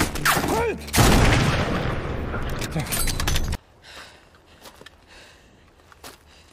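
Gunfire from a battle scene in the film Black Crab: a loud, dense burst of rapid shots and blasts lasts a few seconds, then cuts abruptly to quieter ambience with faint thuds.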